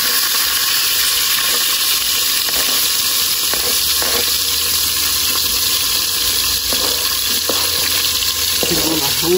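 Steady loud sizzling of vegetables frying with garlic in a pot, continuous hiss with occasional stirring clatter, no talking over it.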